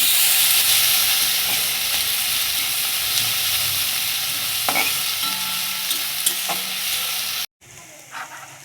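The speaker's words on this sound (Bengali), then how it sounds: "পেঁয়াজটাকে দিয়ে ভালো করে লাল করে নেব।" Onions fry in oil after a cumin tempering, browning in the pan with a loud, continuous close sizzle and occasional stirring clinks, cut off briefly near the end.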